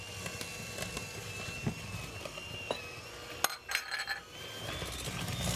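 Oatmeal cookie dough with whole wheat flour is stirred in a bowl, with soft scraping and light clinks of a utensil against the dish, quiet and continuous, with a few sharper taps.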